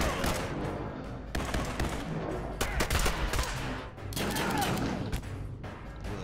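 Sustained rapid gunfire from the video game Fallout Shelter, dense volleys of shots rattling close and loud with a short lull midway.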